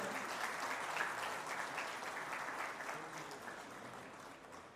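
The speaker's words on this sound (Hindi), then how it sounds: "एक बार और जोरदार तालियां बजा सकते हैं।" Audience applause at a gathering of the Maharao Shekhaji institute in Bikaner: a dense, steady wash of clapping from a crowd that stays loud throughout and tapers slightly toward the end, with no voices over it.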